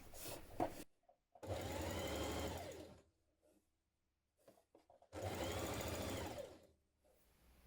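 A sewing machine stitches a double-folded hem on a Vogue 9100 dress in two loud, steady runs of whirring, with a short quiet pause between them and no talk.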